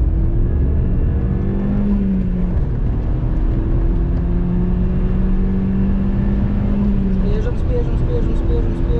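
Race car at an autosprint event at Biķernieki, its engine droning steadily and rising in pitch as it accelerates, loud and close throughout, with a voice talking over it.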